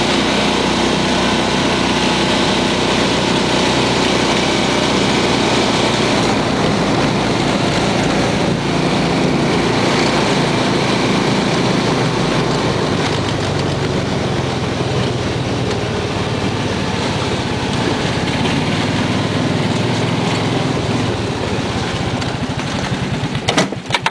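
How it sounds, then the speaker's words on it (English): A small engine runs loud and steady close by, its CVT belt dusty and prone to squealing, a constant roaring drone with a high whine layered through it for the whole stretch. "there might be a bit of a squeal because there's dust inside the CVT belt"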